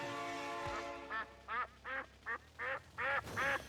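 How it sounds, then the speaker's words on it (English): A played-back cartoonish duck quack effect gives seven short, loud, evenly spaced quacks in quick succession, following an earlier longer nasal honking tone. "That's the duck sound."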